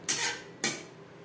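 Papaya curry is stirred in a pan over a high flame, giving two brief scraping clatters of a spoon against metal, close and fairly loud, with a quiet pause between them.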